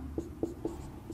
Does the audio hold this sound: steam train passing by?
no